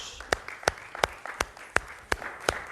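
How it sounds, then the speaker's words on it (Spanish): A church congregation claps for God during a service on the Book of Revelation, sharp evenly spaced rhythmic claps, about eight in a steady beat, fairly quiet over low room noise. "¿Cuántos le dan un aplauso a Dios?"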